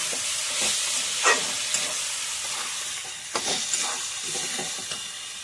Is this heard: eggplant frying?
yes